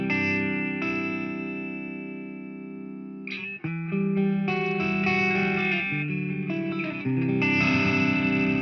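Electric guitar played through a Manis Klon-style overdrive pedal, loud and sustained chords ringing out, then a quick change into a run of shifting held chords and notes with a light overdriven edge, with no talk.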